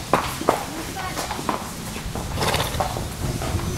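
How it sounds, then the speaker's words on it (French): Horse hooves clip-clop on hard ground in an irregular rhythm, fairly close, with faint background murmur. "on entend les sabots des chevaux"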